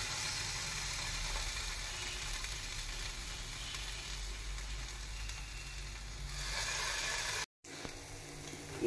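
Paneer dipped in coriander chutney and brushed with oil roasts on a hot tawa, giving a steady, close sizzle that runs almost unbroken with no voices, then cuts out briefly near the end.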